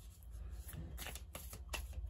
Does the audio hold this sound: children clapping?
no